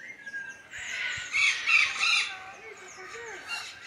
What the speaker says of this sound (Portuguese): Aqui tem ararajuba.